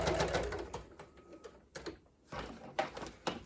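Sewing machine stitching in short bursts, running forward, pausing, then back again, close and fairly loud with no talk over it.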